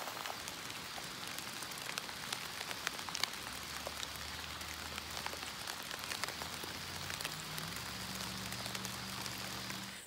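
Steady rain falls on a garden in Missouri, a dense continuous hiss with scattered sharper drop hits, while a low droning hum rises underneath in the second half; no one speaks.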